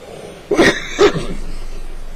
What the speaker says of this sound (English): I got some kind of virus coughing up bright yellow stuff.